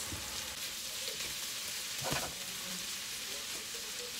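Garlic and pepper beef with vegetables and green peas cooks in a covered pan, giving a steady, even frying sizzle with a soft stir-like thump near the middle and no talking.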